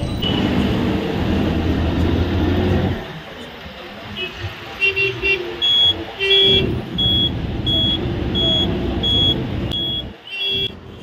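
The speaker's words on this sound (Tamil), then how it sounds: "இன்னொரு ட்ரெயின் வருது பாருங்கள் ஆப்போசிட்டில், சீக்கிரமாக பாருங்கள்." A train rumbles past on the opposite track, heard from a bus cabin in Chennai, with loud low-frequency roar, then quieter clattering and a repeated high-pitched beeping tone while the noise continues.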